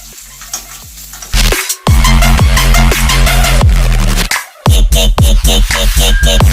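Onions fry in a hot pan for chicken pepper dry, crackling and sizzling loudly up close, with repeated scraping stirring strokes breaking the sizzle into bursts.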